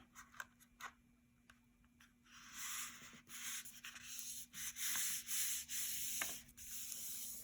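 A sheet of drawing paper is folded in half portrait-style, heard as close, steady rubbing and creasing strokes that grow louder midway, with a few soft taps early on.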